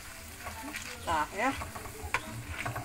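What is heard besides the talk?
shallot peanuts (kacang bawang) frying crisply in oil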